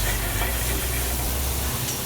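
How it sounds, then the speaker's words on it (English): Steak and red onions stir-fry in a very hot pan seasoned with salt and pepper, giving a continuous dense sizzle and hiss at close range, steady for the whole stretch with no talking. "So you're stir frying your steak. You're gonna throw in some red onions."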